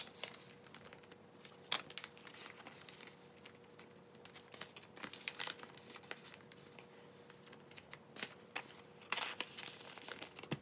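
Paper being crumpled to fill a binder: faint, irregular crinkling and rustling with scattered sharper crackles over about ten seconds, with no voices.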